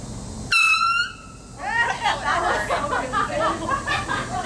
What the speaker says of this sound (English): I'm gonna set off this air horn.